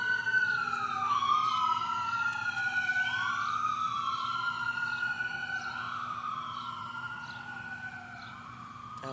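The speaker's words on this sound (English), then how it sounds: "I don't know what's going on with all the sirens" Several emergency vehicle sirens wail and overlap, rising and falling continuously and fading slightly toward the end. They sound moderately distant, heard from a home garden of potted okra plants, with no talking.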